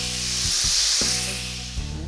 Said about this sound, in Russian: Обжариваем еще минутку.